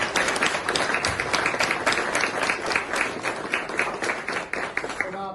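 A theatre audience at a Mumbai performance bursts into dense, sustained clapping that stays fairly even for several seconds and then starts to thin out near the end.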